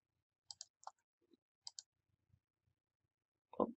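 Computer mouse clicking while editing in Adobe Premiere: several quiet, sharp clicks, mostly in quick pairs, in a silent room, followed by a short low thump at the end.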